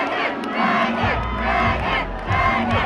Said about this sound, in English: We got a lot of people behind us yelling and screaming.